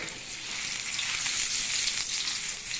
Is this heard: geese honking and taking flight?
no